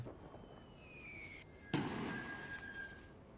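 An artillery shell explodes in Napoleon Total War with a World War One setting: one sharp, fairly close blast rises over a steady battlefield din and whistling, then leaves a lingering rumble. No one speaks.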